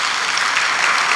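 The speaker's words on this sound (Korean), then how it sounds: "박수 한번 쳐주세요." A church congregation claps for its Sunday school teachers during a worship service, a dense, steady wash of applause filling the room throughout the short burst with no voices over it.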